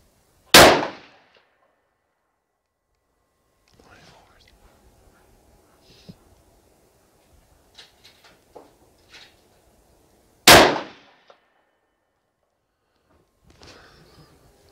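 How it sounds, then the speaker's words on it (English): Rifle shots at an outdoor shooting range, two loud sharp cracks about ten seconds apart, each followed by a short echo, with quiet handling clinks and movement between them. "Let's head out to the range, shoot these 9 rounds"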